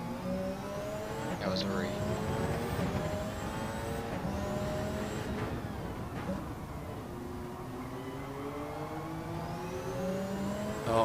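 A race car engine in a GTC/HyPrix sim racing event revs up through the gears in repeated rising sweeps with quick shifts, steady and loud under ongoing commentary talk.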